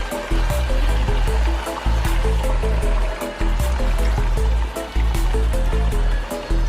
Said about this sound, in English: I'm just gonna pour some water again.